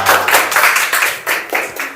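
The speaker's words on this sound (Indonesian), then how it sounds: "Beri tepuk tangan." Classmates clap after a group presentation in an Indonesian classroom, a close, loud burst of hand claps in uneven rhythmic waves, a few people clapping rather than a large crowd.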